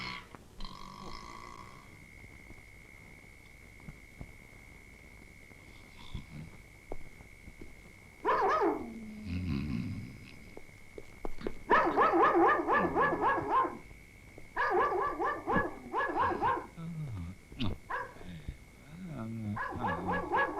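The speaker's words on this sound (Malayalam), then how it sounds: "പട്ടി വല്ലാതെ കുരയ്ക്കുന്നു." A dog barks loudly at night in repeated bursts, close by, with quieter stretches between volleys and a faint steady hum in the background.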